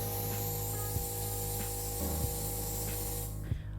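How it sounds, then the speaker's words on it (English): A pressure washer sprays water steadily onto a screen printing screen, a loud continuous hiss close up with a few faint knocks, stopping near the end. "We washed the silhouette out of the screen using a pressure washer"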